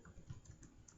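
Soft, quick taps on a computer keyboard as a command is typed into Packet Tracer, a brief run of faint keystrokes close by.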